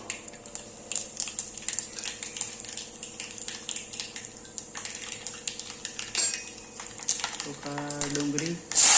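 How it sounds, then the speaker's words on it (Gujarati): Tempering sizzles and crackles steadily in a hot pan for a bitter gourd curry, with clinks of a spoon or utensils against the pan throughout. It is fairly close, carries no speech, and grows louder near the end. "વઘાર થઈ ગયો."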